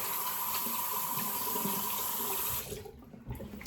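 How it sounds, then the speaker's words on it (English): A tap runs steadily as hands are rinsed under it during a shave, the close gush of water lasting a few seconds before it stops abruptly, leaving brief faint splashes. "Rinsing my hands off."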